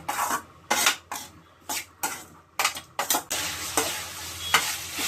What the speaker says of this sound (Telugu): ఈ పసుపుని, ఈ వేసుకున్న పసుపుని ఇట్లా కలిపేసేసి మళ్ళీ ఒక 20 minutes వేగాలి